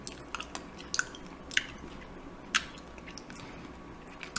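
Someone chews a soft, jelly-like rainbow cube cheese close to the mouth, with quiet squishy mastication and a few sharp wet clicks scattered through a low, steady background.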